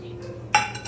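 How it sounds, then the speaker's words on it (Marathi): Semolina goes into gram flour roasting in a pan, marked by one brief metallic clink of utensil against the pan after a quiet stretch, with a faint ringing tail. "तो आपण रवा टाकून घेऊया"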